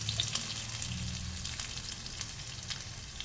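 Finely chopped green chilies sauté in a pan for pineapple pickle, a close, continuous sizzle with a few light clicks of stirring, short and steady, with no voices.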